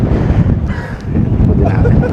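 Strong wind buffets the microphone on an exposed mountain pass in Pangasinan, a constant loud low roar with gusts throughout.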